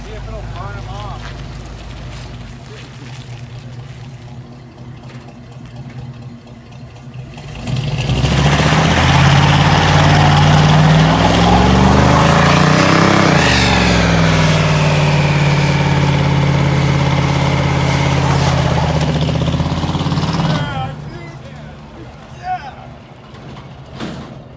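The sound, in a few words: vehicle engine revving during attempted burnout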